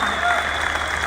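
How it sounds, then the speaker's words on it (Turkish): An audience applauds after a patriotic Turkish poem recitation, a dense, steady wash of clapping filling the whole moment. "kuvvetli alkışlar"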